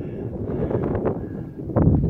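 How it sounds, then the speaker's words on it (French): Gusty wind near a mountain summit in the Pyrenees, by the Migouelou and Artouste lakes, buffets the microphone in low rumbling blasts, growing stronger toward the end. "Désolé pour le vent."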